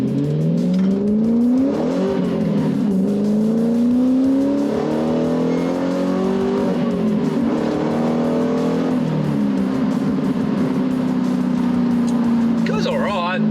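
A Ford XR6 ute fitted with a catback exhaust accelerates hard, its engine note rising and falling through gear changes, heard loud from on board as a driver talks over it.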